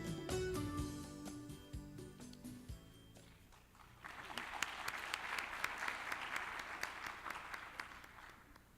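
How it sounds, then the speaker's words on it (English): An audience breaks into applause for the concluding address of a well-being forum. After some opening music the clapping swells into a dense, sustained roll of many hands that carries on steadily to the end. "Please greet him with a big round of applause."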